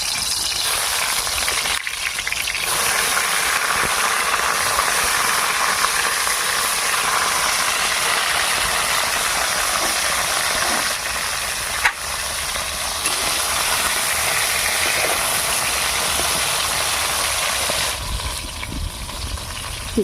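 Bhangar fish sizzles and crackles steadily in hot oil in a wok over a wood-fired stove, a loud, continuous frying hiss with a few sharp pops, unbroken by talk.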